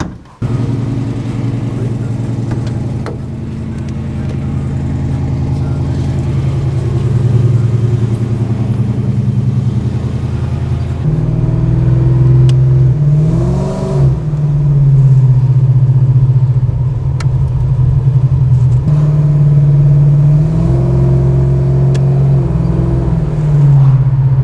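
Engine of a Dodge Charger restomod with hand-built headers revving and driving, a loud, steady low rumble throughout with rising and falling revs, including a surge around the middle, close to the listener.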